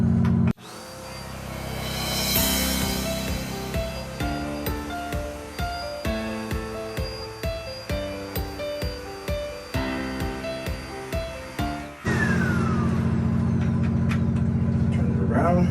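A vacuum cleaner runs with a loud, steady whine for a Flowbee home haircut, broken by a series of rhythmic dips as the attachment is worked over the head, then a steady roar again.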